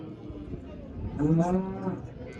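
A cow at a livestock market gives one moderately loud, drawn-out moo over a low background of market murmur.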